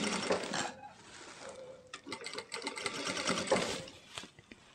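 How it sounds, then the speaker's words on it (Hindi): A sewing machine stitches a palazzo trouser seam in steady bursts of rapid, close mechanical chatter, pausing briefly between runs, loud and alone with no talk. "जो हमारी ऊपर वाली सिलाई है उसके बीच में ही हम सिलाई डालेंगे।"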